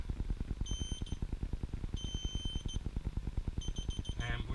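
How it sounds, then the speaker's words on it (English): A MarsMD pinpointer sounds its lost-pointer alarm, tested outdoors in Australia: rapid high-pitched beeps in three short bursts over a steady, rhythmic low pulsing background. "There's the lost pointer alarm again."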